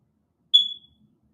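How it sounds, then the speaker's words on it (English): A smoke detector lets out a single short, loud, piercing chirp in an otherwise quiet room. "I know my smoke detector is irritating y'all"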